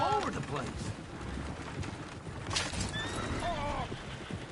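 Horses neigh and whinny loudly in a video game, with repeated wavering calls at the start and near the end, hooves clip-clopping throughout and faint voices underneath.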